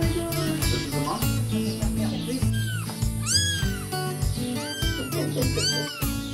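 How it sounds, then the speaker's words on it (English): Cat meowing repeatedly at an Albanian family home, several rising, drawn-out meows close by over a busy background of people talking and household clatter. "I love cats."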